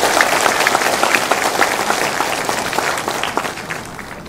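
A concert audience in Dallas applauds a male singer with a loud, sustained burst of clapping that holds steady and then begins to taper toward the end.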